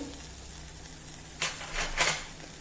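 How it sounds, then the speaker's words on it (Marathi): Red chili powder sautéing in oil over a low flame in a pan of spiced masala, with a faint low sizzle and a few louder stirring scrapes and hisses near the end. "मंद आचेवर आता हे आपल्याला छान परतत राहायचं आहे"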